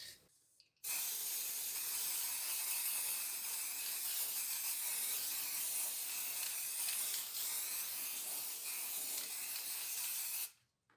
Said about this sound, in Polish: Na koniec całość spryskujemy lakierem.